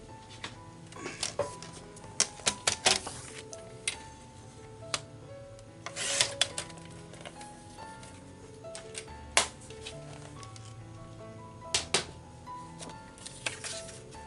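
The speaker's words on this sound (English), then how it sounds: "Trim it on the side some." A paper trimmer cuts a 4x6 photo, heard as close, quiet scraping and sliding with scattered sharp clicks and taps, no talk.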